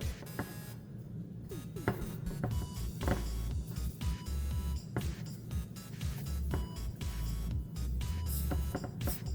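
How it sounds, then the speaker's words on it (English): Refrigerant can being pierced on a tap valve during a Ford Escape air-conditioning recharge: sharp metallic clicks and brief taps close up over a steady low hum, with no talk. "Alright, so now I'm gonna pierce the can."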